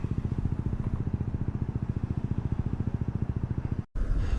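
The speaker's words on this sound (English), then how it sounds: "That's a motorbike that's making that noise behind me. It's an old British bike by the sound of it." An old British motorbike engine throbs in a fast, even, low pulse behind a street scene, fairly faint and steady, then briefly cuts out near the end.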